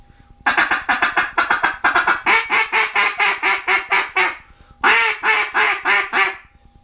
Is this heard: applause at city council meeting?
no